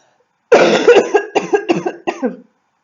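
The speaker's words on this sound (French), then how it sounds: "Je tousse une dernière fois." A close, loud burst of coughing: several rough coughs in quick succession, then silence.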